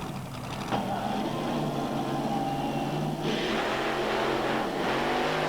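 A nitro drag racing machine roars at the 1992 Hockenheim drag festival, a loud continuous engine drone whose pitch rises and dips as it revs, heard alone without speech.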